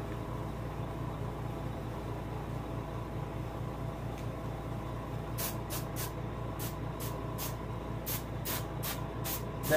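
An airbrush sprays paint onto the fin of a taxidermy largemouth bass, a steady soft hiss over a low hum, joined later by a run of short, sharp spray bursts in quick succession.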